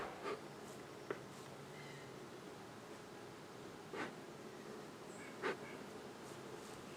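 Honey bees hum in a faint, continuous drone during a hive inspection while a honey super is added, with a few soft knocks and rustles of frames over the steady buzz.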